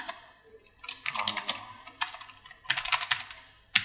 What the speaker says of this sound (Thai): ผมด้วยการพิมพ์สั่งนะครับ